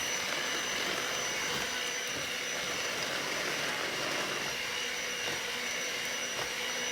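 An electric hand mixer beats boxed cake batter for a honey bun cake. It gives a continuous, even whir that holds steady the whole time, with no talk over it.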